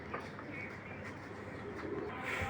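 Lal Bombai pigeons cooing softly, a faint low murmuring coo over quiet background hiss, close and calm.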